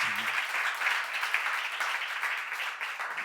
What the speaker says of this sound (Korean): 박수 하나 더 주세요.